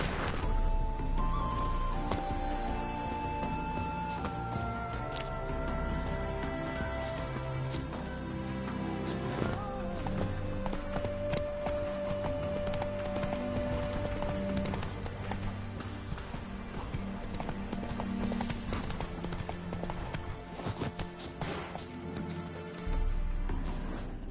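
Roach the horse gallops in The Witcher 3, with steady hooves clip-clopping under continuous game music and ambience, and a brief voice joins near the start.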